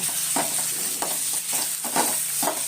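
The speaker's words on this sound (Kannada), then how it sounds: "ತುರಿದಿಟ್ಕೊಂಡಿರೋ ಮಾವಿನಕಾಯಿ ಅದು ಸ್ವಲ್ಪ ಫ್ರೈ ಮಾಡ್ಕೊಳ್ಳಿ ಚೆನ್ನಾಗಿ" Grated raw mango frying in a pan for chitranna, a steady sizzle broken by repeated scraping stirs of a spatula roughly every half second, close and fairly loud with no talking.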